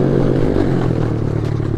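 Mini motorcycle engine revving near a muddy rural spot, a loud, close, raspy buzzing drone held steadily throughout, with rattly mechanical clatter in the tone.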